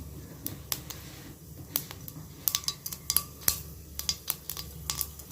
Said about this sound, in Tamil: சோம்பும் கடுகும் நல்லா பொரிஞ்சிக்கிட்டு இருக்குது